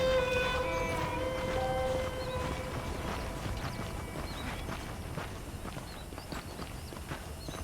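Saddled horses clip-clop in Red Dead Redemption, with steady, close hoofbeats on hard ground keeping an even walking rhythm throughout, under faint tonal background sounds at the start.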